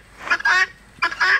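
Guinea fowl call twice at close range, each a pair of harsh, raspy honking bursts about a second apart.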